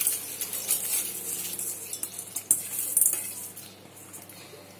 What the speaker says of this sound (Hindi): फिर उसमें हम दाल डालेंगे।